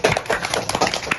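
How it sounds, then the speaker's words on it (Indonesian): A classroom of students claps for a discussion group, a short burst of close, uneven hand claps with distinct individual slaps rather than a smooth wash. "Tepuk tangan untuk kelompok 2"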